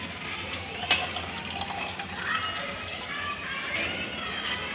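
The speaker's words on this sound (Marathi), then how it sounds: "आणि आता ह्याच्यामध्ये आपण 1 ग्लास पाणी टाकणार आहोत." Water pours into a glass holding basil seeds and fruit pulp, a continuous splashing fill with a brief clink near the start.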